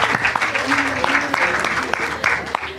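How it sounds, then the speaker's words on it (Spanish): Applause from the audience at an environment and law conference, a patchy burst of clapping with sharp individual claps over a busy room murmur, briefly overlapped by talking. "un aplauso,"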